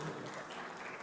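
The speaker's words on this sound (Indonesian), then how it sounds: "Tepuk tangan buat Prof Denny." Faint audience applause at a brand awards event, a brief steady patter of clapping from a distant crowd with no talk over it.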